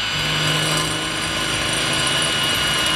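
A YATO brushless drill bores with a 4.5 mm bit, a loud, steady high-pitched whine that runs without a break for a few seconds, with no voices.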